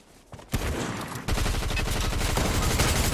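Shotgun gunfire in a video game rattles off in dense, loud bursts, firing almost continuously after a brief quieter lead-in.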